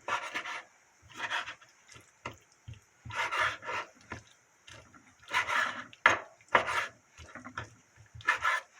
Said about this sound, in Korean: 일단 이렇게 썰어놔요.